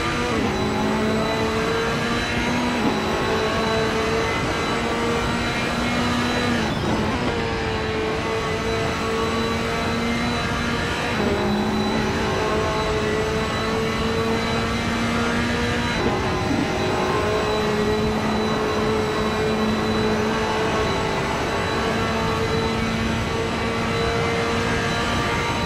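A race car engine laps the Nordschleife circuit in a racing video game, a loud, continuous high whine that climbs through the gears and drops sharply at each shift, repeating over and over.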